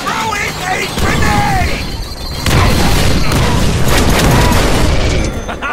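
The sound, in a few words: grenade explosion in Deadpool video game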